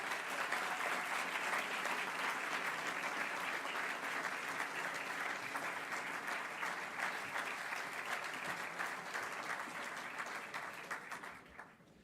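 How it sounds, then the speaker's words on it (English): Audience applause at a school ceremony, a dense, steady clapping from a large crowd that holds strong before fading out at the end. "Ladies and gentlemen, a warm applause for Sean Michael Whelan."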